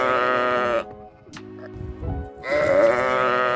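A sheep bleats twice, loud and close. Each bleat is a long, wavering, nasal cry, and a short stretch of human talk falls between the two calls.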